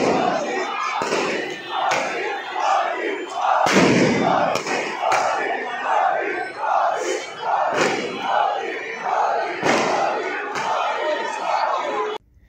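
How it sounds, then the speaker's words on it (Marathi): Cricket fans crowd a street in Amravati celebrating India's World Cup win, with loud massed shouting and cheering in rolling waves and sharp thumps and claps mixed in, sustained throughout and cut off abruptly at the end. "क्रिकेट प्रेमींनी रस्त्यावर येत प्रचंड जल्लोष साजरा केलाय"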